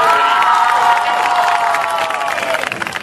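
An audience bursts into loud, sustained cheering and applause, with whoops and shouts layered over steady clapping that slowly thins toward the end.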